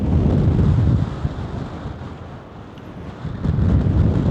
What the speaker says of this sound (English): just see the wind pushing on the tent there